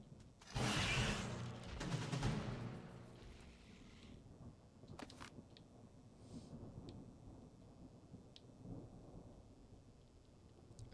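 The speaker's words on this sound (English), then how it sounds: "That sounds a lot like thunderstorms coming." Thunder in the scorched desert of ARK: Survival Ascended, Scorched Earth, a heavy rolling crash lasting a couple of seconds followed by faint distant rumbles and sharp cracks, quiet overall with no talk.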